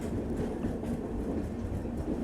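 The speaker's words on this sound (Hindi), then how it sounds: "हमारी राप्ती सागर सुपर फास्ट लूप होकर के निकल रही है" Rapti Sagar superfast express passenger train rolling through a loop line, a steady near rumble of wheels and carriages with faint rhythmic clatter throughout.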